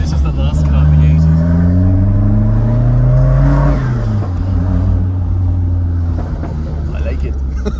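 A Maserati Shamal, a late-1980s sports car, revs hard in New York: a loud, close engine climbs steadily in pitch for several seconds, then drops back to a deep, steady idle.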